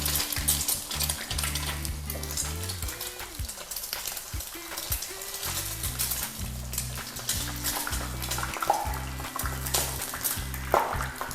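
Continuous sizzling and crackling of an egg frying in hot oil over high heat, with occasional sharper pops and spatters as moisture hits the oil, close and steady throughout.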